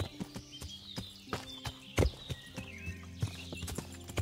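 Steady clip-clop of hooves in Kingdom Come: Deliverance, a horse walking through brambles at an even pace, crisp and close, with faint ambient tones underneath and no talking.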